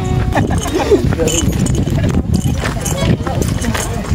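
Horse hooves clip-clop on the ground along a trail toward a rock formation where rides are offered, a steady close rhythm under people chatting nearby in hot outdoor conditions.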